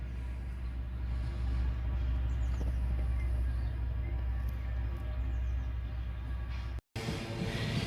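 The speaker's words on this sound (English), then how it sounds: "There's a freight train." A freight train rumbles past near the Black Country Living Museum, a steady heavy low roar that holds for several seconds before cutting off abruptly, followed by a brief burst of louder rumble at the end.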